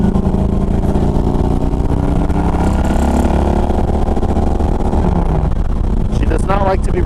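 A 2011 Harley-Davidson Road Glide engine roaring at full throttle, a loud, steady, close drone throughout, with a voice speaking over it near the end.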